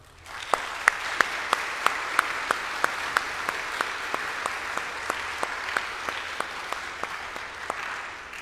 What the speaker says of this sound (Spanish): todos nos merecemos hoy un gran aplauso